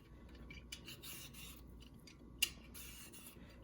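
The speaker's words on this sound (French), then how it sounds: "la première chose que je vais faire, c'est d'éplucher mon concombre" Faint scraping strokes of a peeler drawn lengthwise along a cucumber, in several short bursts with a brief sharp click midway, quiet and close with no talking.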